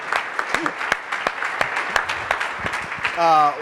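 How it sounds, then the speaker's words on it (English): Audience applause at a moderated panel discussion on bridging the political divide, a steady patter of claps across the room with a voice speaking over it and a brief louder burst near the end. "Would you just join me with a round of applause for these guys?"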